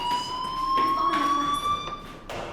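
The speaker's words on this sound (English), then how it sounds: "do you hear that fire alarm?" Fire alarm in the video game Life Is Strange, a steady high electronic tone sounding continuously and close, with faint background noise around it.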